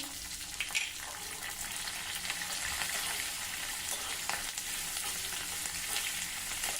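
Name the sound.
peanuts, asafoetida and green chilli frying in tempering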